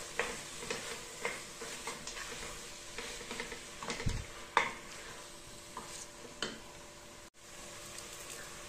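Chopped tomatoes sautéing in a pan with shallots and ginger-garlic paste, a steady soft sizzle broken by repeated scraping stirs and one louder clank, with no talk.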